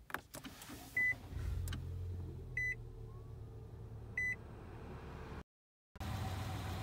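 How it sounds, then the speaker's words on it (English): A 2013 Nissan Altima S is started by push button: a few short electronic chimes sound inside the quiet cabin, then the engine catches and a steady low hum follows after a brief gap. "It's a push button start."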